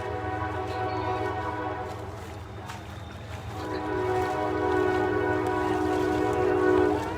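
Freight train rumbling past at a distance, with a low steady roar and a drawn-out horn sounding in the background, growing somewhat louder over the last few seconds.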